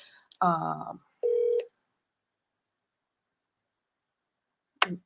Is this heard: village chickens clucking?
no